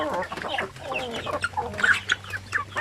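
RTL Basilan laying hens cluck and chatter continuously up close, a busy mix of short clucks and higher squawks from several birds, with no talking.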